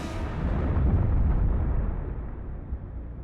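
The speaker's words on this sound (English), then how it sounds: "It begins to break up and then explodes with the force of a small nuclear bomb." High-altitude airburst of asteroid 2008 TC3 breaking up and exploding in the atmosphere: a loud, sustained rumbling blast that swells over the first second and a half, then slowly fades into a low roar.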